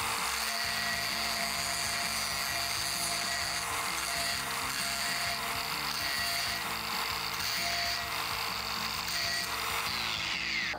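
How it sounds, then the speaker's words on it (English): A grinding wheel working on a pipe weld gives a steady loud high whine and rough grinding roar, with no pause through the whole stretch, close up and with no voices. "when I'm grinding, when I'm pushing in, I'm just pushing in really small, very short pushes"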